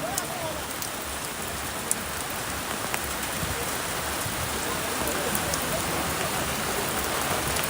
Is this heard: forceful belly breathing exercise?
no